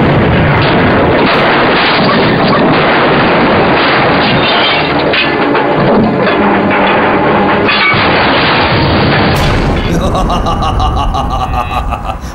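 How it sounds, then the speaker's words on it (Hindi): A movie car blown apart by a bomb: a dense, very loud, sustained roar of blast and rumbling debris that fills the whole stretch, ending in a sharp change near the close. "अभी उस कार को बॉम्ब से उड़ा रहा हूँ।"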